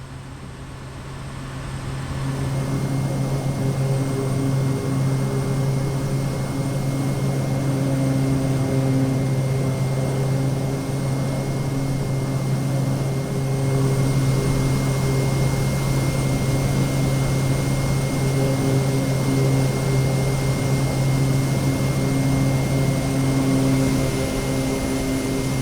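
Kodiak 100 single-engine turboprop climbing in Microsoft Flight Simulator 2020, a steady, loud cockpit drone with a constant low hum and whine, rising slightly after a quiet start and holding level throughout, with no talk.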